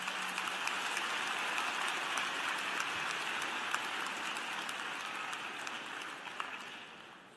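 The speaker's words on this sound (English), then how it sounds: "Would you please give our Chancellor a warm round of applause?" Sustained applause from a commencement audience greeting the chancellor at a university graduation ceremony, a dense steady wash of clapping that holds for several seconds before easing slightly toward the end.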